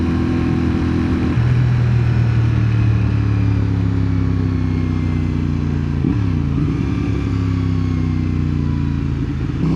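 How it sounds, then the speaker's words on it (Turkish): In traffic, a motorcycle engine drones loud and near, its pitch sliding down and then shifting as it passes, over a steady road rumble. "Aynadaki motosikletten bahsediyorum."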